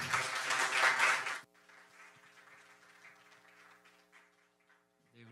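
A church congregation at a Korean young adults' worship service applauds after a testimony, a loud burst of clapping for about a second and a half that cuts off abruptly, leaving quiet room tone with faint sounds.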